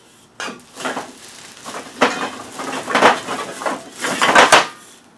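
Old aluminum beer cans, some in rough, dented shape, knocked and rattled together while being handled, giving a string of close, bright metallic clinks and clatters in uneven bursts.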